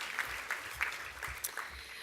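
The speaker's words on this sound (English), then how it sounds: "Really a round of applause." Faint audience applause at a gala, a soft patter of scattered claps from a distant crowd with a few sharper hits standing out.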